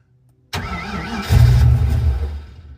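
A car engine cranks and catches after an Edelbrock 1405 carburetor swap, with dry fuel lines and no accelerator pump: a loud starter whir breaks the silence, then the engine roars up briefly and fades.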